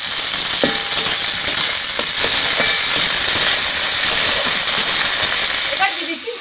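Chopped tomato fries in a hot wok with a loud, steady, steamy sizzle and light stirring, which fades at the very end.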